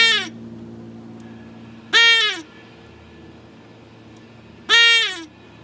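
A handheld deer call imitating a lost or distressed whitetail fawn sounds three loud, nasal bleats, each falling in pitch, spaced a couple of seconds apart over a low outdoor background hum.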